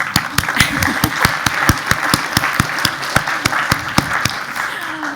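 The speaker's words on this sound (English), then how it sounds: "I think she already deserves an applause" Conference plenary audience applauding in a hall, a steady run of sharp, fairly close handclaps repeating through the clip at moderate loudness with no talk.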